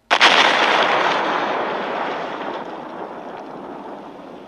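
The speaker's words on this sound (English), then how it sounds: "The bomb goes off. Then there was a massive explosion." A massive, roaring explosion bursts in suddenly and loudly, then rumbles and slowly decays over several seconds without fully fading.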